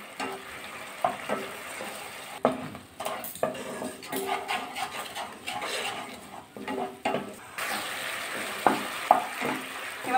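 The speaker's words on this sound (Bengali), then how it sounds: "এবার মশলাটা ভালো করে একটু কষিয়ে নেব।" Masala being fried and stirred for okra (bhindi) jhal: a steady sizzle runs throughout, broken by repeated scraping and clinks of a spatula against the pan at an irregular rhythm, close and fairly loud, with no talking.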